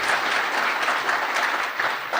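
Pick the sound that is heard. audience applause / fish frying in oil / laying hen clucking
audience applause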